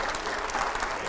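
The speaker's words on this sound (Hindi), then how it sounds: "चलिए, जोरदार तालियां हो।" Loud, dense audience applause fills a Hindi-language panel discussion with economists and editors, steady clapping throughout the short moment with no talk over it.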